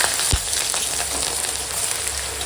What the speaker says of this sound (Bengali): এখন পেঁয়াজ কাঁচা লঙ্কাটা ওই মাছ ভাজা তেলে সুন্দর করে ভেজে নেবো